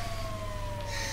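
Police car siren in the video game GTA 5, a steady wailing tone that slowly falls in pitch, loud and continuous over engine and traffic rumble.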